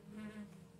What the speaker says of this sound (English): There's bees outside.